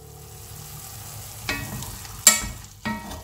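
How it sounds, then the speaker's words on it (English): Baby king oyster mushrooms stir-frying in sauce, a soft steady sizzle broken by three distinct clacks and scrapes as the pieces are turned in the pan; no speech. "continue cooking for two to three minutes. turning occasionally until the mushrooms are cooked."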